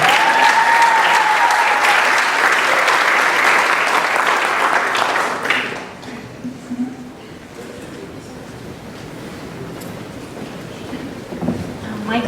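Audience applause at a high school senior awards ceremony, loud and dense for roughly five seconds, then dropping away into murmuring room noise with scattered faint sounds.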